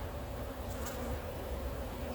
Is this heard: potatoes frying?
no